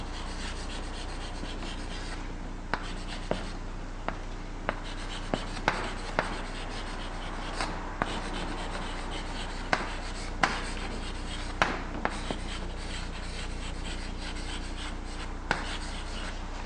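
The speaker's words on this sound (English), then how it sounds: "Let me write that a little better." Marker or chalk writing on a board during a courtroom-style lecture on a trial: steady rubbing and scratching strokes with sharp taps between them, close and fairly quiet, with no talking.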